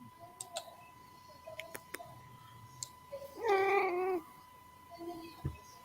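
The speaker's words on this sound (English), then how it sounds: "Someone got a cat?" A cat gives one clear, drawn-out meow near the middle, close and fairly loud, with a few faint ticks and clicks scattered around it in an otherwise quiet room.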